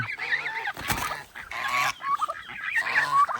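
Geese kept alongside turkeys honk repeatedly in loud, close, overlapping calls, a noisy flock with no talking.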